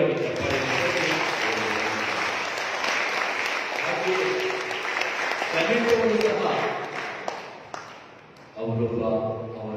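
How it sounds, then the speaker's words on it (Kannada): Loud applause from a church congregation during a Catholic mass, sustained clapping that dips briefly near the end before swelling again, with voices mixed in. "ಜೋರಾಗಿ ಚಪ್ಪಾಳೆ."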